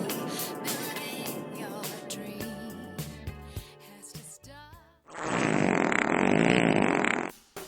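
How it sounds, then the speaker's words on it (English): A loud, drawn-out fart blasts for about two seconds near the end, following a stretch of busy music and effects in an animated cartoon. "Stupid Dog tried to blame his fart on Violet."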